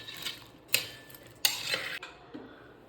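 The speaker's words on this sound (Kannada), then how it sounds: "ಸ್ವಲ್ಪ ಮಿಕ್ಸ್ ಮಾಡಿಕೊಳ್ಳುವ." A spoon scrapes and clinks against a pan while jackfruit curry with curry leaves is stirred, a few sharp close knocks and scraping strokes over a soft background hiss.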